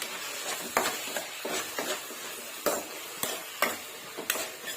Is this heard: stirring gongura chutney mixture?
yes